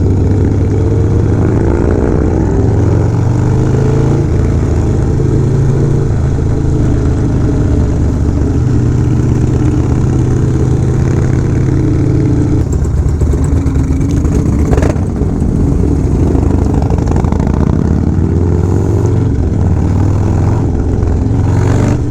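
A motorcycle engine runs steadily while riding through New York City streets, a loud continuous low rumble with rising and falling revs and traffic noise, no talking.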